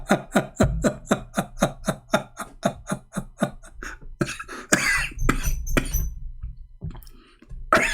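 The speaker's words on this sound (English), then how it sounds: "Sorry guys, I'm coughing" A man coughs in a long run of sharp, evenly spaced hacks, close and loud, then breaks into a few rougher, heavier coughs and throat noises before trailing off.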